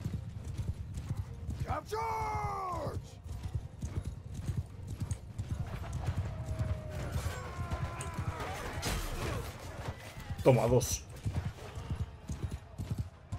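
Horse hooves clip-clop steadily in a Mount & Blade II: Bannerlord battle, with loud whinnies and neighs breaking through. Someone talks over the noise of the fighting.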